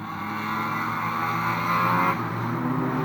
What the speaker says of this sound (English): Lovely sounding Honda. In fairness, the VTEC version I think you'll find.